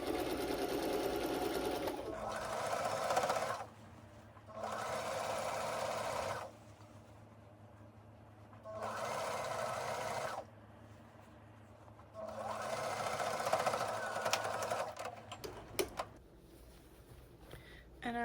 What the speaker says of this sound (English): You want to make sure not to sew down your straps when you're doing the final top stitch.